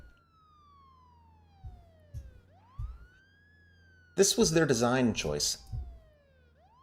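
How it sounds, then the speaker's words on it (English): A police car siren in the video game State of Decay, a faint wailing tone that falls and rises and loops awkwardly, running under someone talking, with a few soft thumps. "That's the siren."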